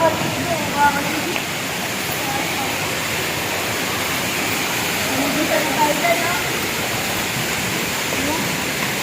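A waterfall at the falls in Dingalan, Aurora gives off a steady, broad rushing roar that fills the whole stretch without a break, with faint voices murmuring underneath.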